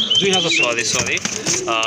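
Restless pigeons from a rare-coloured pair in a collection, cooing and fluttering close by, with busy overlapping calls and rustles filling the whole moment.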